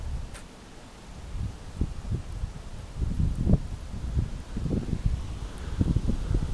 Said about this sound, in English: wind's kicking up too, as you can see